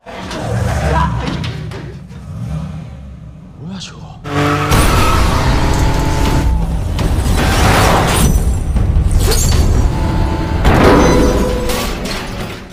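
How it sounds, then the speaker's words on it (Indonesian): In a film scene, a car smashes into an office with a sudden loud crash and a rumbling, clattering aftermath, heard under a narrating voice. "tiba-tiba Baek menabrakkan mobil ke dalam kantor"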